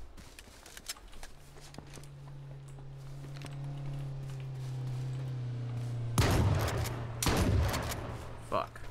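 Shotgun fire in the H1Z1 battle royale game, two loud blasts near the end over a steady low vehicle engine hum, with a few sharp clicks earlier.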